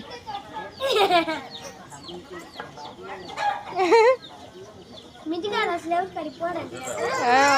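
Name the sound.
hen clucking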